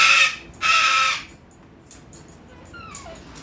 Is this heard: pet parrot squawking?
yes